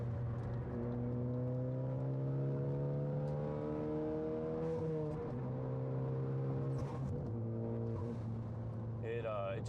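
A 2014 Ford Focus ST engine drones loudly at high revs in fourth gear, a steady rising whine with gear harmonics, close and continuous throughout.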